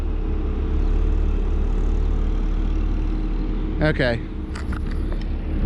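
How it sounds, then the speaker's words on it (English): A 2018 Audi RS5 engine idles with a steady, deep, close hum, while a voice speaks briefly over it and a few short sounds break in near the end. "The engine is on, but you've already heard that from the startup."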